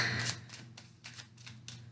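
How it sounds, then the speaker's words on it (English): Tarot cards are shuffled by hand in a run of quick riffling bursts, about five or six evenly spaced, close and fairly soft, with no talking. "one more shuffle, and then we'll get into the cards"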